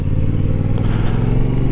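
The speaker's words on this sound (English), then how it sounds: "689cc engine, inline twin CP2." Yamaha MT-07 motorcycle with its 689cc CP2 inline-twin engine running steadily nearby, a loud, throbbing low-pitched drone holding an even level throughout.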